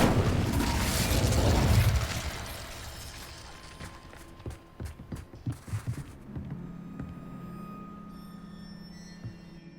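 An Incendio fire spell bursts in the Wizards of Waverly Place video game as a rumbling blast that swells for about two seconds, then fades into a quiet scatter of clicks and small pops.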